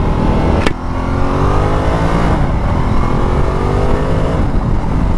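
A 2019 Ducati Multistrada 1260 S Touring motorcycle accelerates hard, its engine note sweeping upward through the revs after a sharp click, loud and close with steady wind rush underneath.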